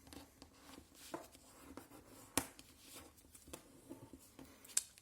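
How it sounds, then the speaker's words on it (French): Fingernail pressing and scraping along paper folds while shaping an origami bat, soft close scratches and light rubbing strokes with a few sharper crinkles, quiet and without talk. "Et puis on écrase avec le dos de l'ongle pour bien marquer les plis."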